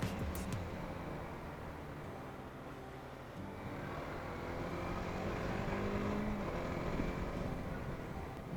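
Apache RTX 300 motorcycle engine running steadily, a continuous low droning rumble that swells slightly as it pulls, heard up close and alone without talk.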